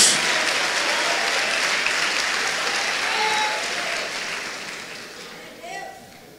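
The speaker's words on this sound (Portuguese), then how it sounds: "pode dar uma salva de palmas" A church congregation breaks into a round of applause during a sermon, steady clapping that gradually fades away, with a voice coming in near the end.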